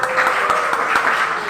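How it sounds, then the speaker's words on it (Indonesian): A classroom applauds a student group during a problem-based learning lesson: brief, continuous hands clapping together, fairly close and even, with a few louder claps standing out. "Jadi ya, tepuk tangan dulu untuk kelompok 1"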